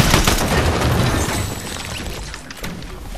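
Rapid SMG gunfire in a shooter video game, dense bursts of fast automatic shots crackling loud and close for several seconds with no talk over them.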